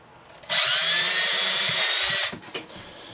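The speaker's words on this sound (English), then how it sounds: "I'm going to go with the 5/32. Now just make sure that when you're doing this, you don't drill into your hand." A power drill fitted with a 5/32 bit whines loudly and steadily for just under two seconds, then stops, followed by a few light handling knocks.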